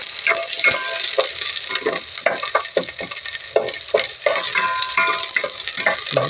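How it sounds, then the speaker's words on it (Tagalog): Onion frying in oil in a pan as the base for chicken tinola, a loud, continuous sizzle broken by frequent clattering stirs close up. No talking is heard. "So una mo lang linagay yung sibuyas."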